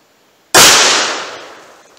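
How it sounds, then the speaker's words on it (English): One loud, sharp .38 Special +P gunshot from a snub-nose revolver bursts out close, followed by a long decaying echo and ring, with no talking. "We'll try with the snub nose barrel, see if we can get to fire double action."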